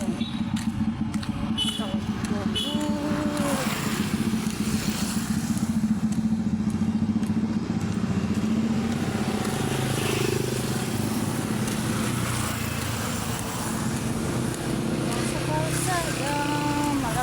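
Cars and motorcycles pass along a road, a continuous engine drone with buzzing motorcycle revs rising and falling, heard close by under steady talking throughout.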